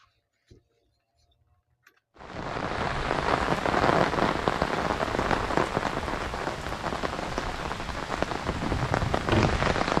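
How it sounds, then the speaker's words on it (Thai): Near silence with a few faint clicks at a natural fishing spot, then heavy rain abruptly begins pouring, a dense, loud, steady hiss of drops hitting a surface that continues to the end. "ฝนลงเม็ดแล้วครับ"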